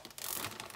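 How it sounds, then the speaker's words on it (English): A plastic zip bag holding romaine lettuce wrapped in a paper towel is pressed shut, giving a short, close run of soft ratcheting clicks and crinkles that lasts under a second. "Zip it up."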